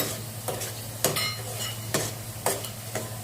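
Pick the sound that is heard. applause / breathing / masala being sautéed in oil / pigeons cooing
masala being sautéed in oil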